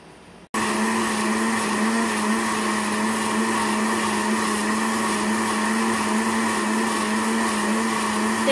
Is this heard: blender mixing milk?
yes